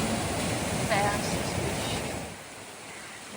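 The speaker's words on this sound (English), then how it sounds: "It's a beautiful stream." A stream runs beside a hiking trail in the Presidential Range on the Appalachian Trail, giving a steady close rushing wash of water that eases slightly toward the end.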